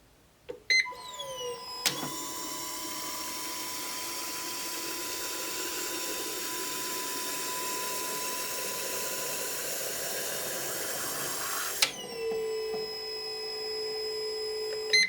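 Kawasaki ZH2 fuel injectors are flow tested at 50 psi of fuel pressure, producing a steady, loud hissing spray with a constant tone for about ten seconds, bracketed by clicks as the test starts and stops.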